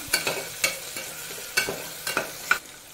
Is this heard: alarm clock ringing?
no